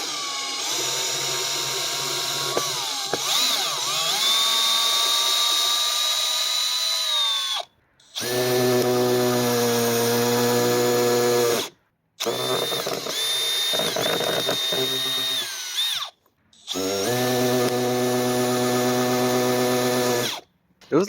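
A Makita hammer drill runs in four loud, sustained whining bursts with short silent pauses between them, its high motor tone rising and dipping as it bores.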